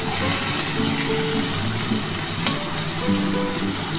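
Two chopped onions frying in hot oil left from fried eggs, a dense, steady sizzle and bubbling held close and constant throughout, with no voices.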